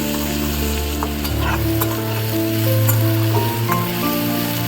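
Mango pieces fry and are stirred in a pan, giving a loud continuous sizzle with occasional scraping stirs layered over it and no speech.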